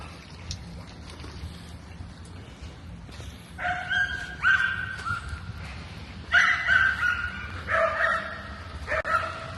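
A dog left tied outside a shop yips and barks in short bursts from about midway on, mid-distance on a city street with a low traffic hum behind.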